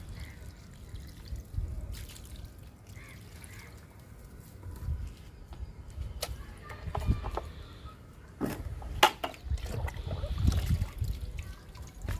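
Liquid fertilizer made from fruit peels poured onto potted pomegranate plants, heard as soft drips and trickles splashing into soil, with occasional faint bird calls in the background and no talk.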